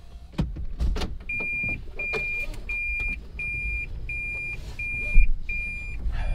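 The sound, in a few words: third-generation Toyota Prius driving on a test drive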